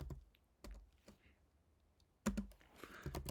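Quiet computer-keyboard typing: a few scattered key clicks, then a short flurry of taps near the end, all soft and close with no voices.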